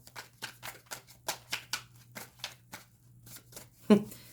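Rapid, crisp card shuffling: a run of riffling bursts in quick rhythm, close and fairly quiet, ending with a soft thump.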